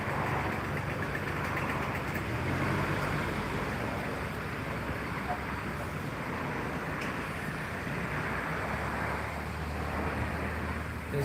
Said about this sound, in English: So you can see now traffic through and through.